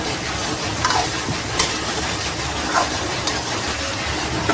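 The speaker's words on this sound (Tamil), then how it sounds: "கத்திரிக்காவை போட்டோடனே இப்போ வந்து நல்லா ஒரு கொஞ்ச நேரம் வந்து அதை வதக்கலாம்" Brinjal pieces are sautéed in a pan for an oil-based brinjal curry, with a steady, close sizzle and occasional clinks and scrapes from stirring; no voices.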